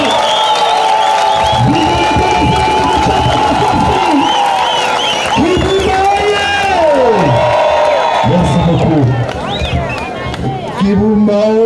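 Rally crowd in Kibumba cheering and ululating: loud, near, high trilling ululations rise and fall in repeated waves over shouting and clapping, with voices calling out throughout.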